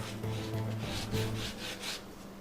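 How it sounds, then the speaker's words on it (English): A brush rubs DAP contact cement onto blue foam and PVC pipe for a short sword prop, giving steady, close scratchy strokes in a repeated back-and-forth rhythm, with no talking. "I'm of course using my smaller brush for the smaller things that I need to dap"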